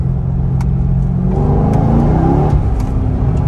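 A C6 or C7 Corvette pulling hard in second gear from a rolling 2,500 RPM, its loud, close engine note climbing steadily as it accelerates, with a few faint clicks and no talk.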